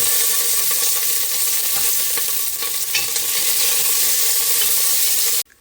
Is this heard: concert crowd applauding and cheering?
no